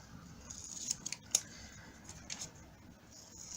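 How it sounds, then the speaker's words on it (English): Quiet, close snips of scissors cutting paper, a few crisp clicks over a soft background hum. "Use my bigger scissors."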